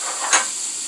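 About a tablespoon of butter hits a hot pan with cauliflower rice, a brief loud sizzle with a hissing swell in the middle of one second, close and without talk.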